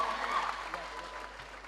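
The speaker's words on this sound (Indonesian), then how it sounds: "Tepuk tangan untuk Dr. Gamal Albin Said." Applause from a workshop audience welcoming a guest lecturer, a soft, steady patter of many hands heard at a distance and fairly faint throughout.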